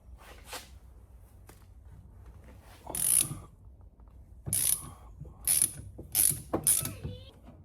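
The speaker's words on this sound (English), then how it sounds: "Could have got a longer ratchet." Ratchet wrench clicking close up while loosening a water pump bolt on a 1973 Corvette, a few separate bursts of quick metallic ratcheting after a quiet start.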